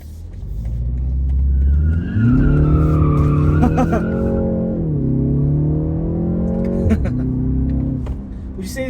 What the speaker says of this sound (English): Would you say this car is also pretty easy to control in terms of slides?